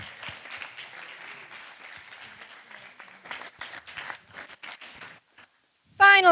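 A festival audience gives a sustained round of applause, dense clapping that thins out and stops, followed by a brief loud burst at the very end.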